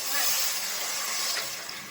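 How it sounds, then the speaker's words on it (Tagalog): Water pours steadily into a cooking pot of sautéed fish, sweet potato and moringa, a continuous broad hiss and gush that fades slightly toward the end. "Lagyan na po natin ng tubig."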